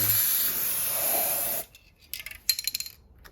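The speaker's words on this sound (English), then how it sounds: "Have to clear the nozzle of the spray can" A steady, loud hiss of spray blasting from a spray can nozzle for over a second, then stopping abruptly, followed by a few short sputtering bursts as the nozzle is cleared.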